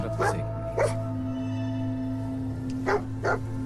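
Dog barking in the post-apocalyptic video game Fallout 4, four short barks in two pairs over steady game background hum, with a low voice murmuring under it.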